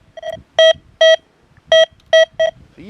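A Deus 2 metal detector answers a dime with a series of six sharp electronic beeps at an uneven pace, each tone short and bright and loud against quiet background.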